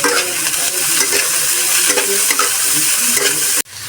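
Bread pakora filling with chopped chili and garlic paste is mixed by hand, a loud, close, continuous squelching and rustling that stops abruptly near the end.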